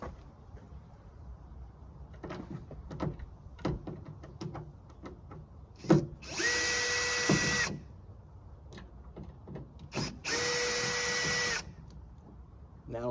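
A power drill backs Phillips screws out of the rear hatch trim on a 2012 Kia Sedona in two close, whirring runs of about a second each, after scattered clicks and handling taps.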